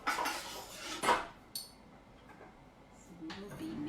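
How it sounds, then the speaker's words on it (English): Someone grabs a whisk from among metal kitchen utensils, making a few quiet clinks and clatters followed by a faint rattle. "I'm just gonna grab a whisk while I'm waiting."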